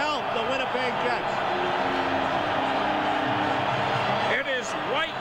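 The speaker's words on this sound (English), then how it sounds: "And listen to the crowd here." Hockey crowd roaring steadily inside Winnipeg Arena during a 1993 NHL playoff game between the Jets and Canucks, a dense continuous wash of cheering with a commentator's voice running over it.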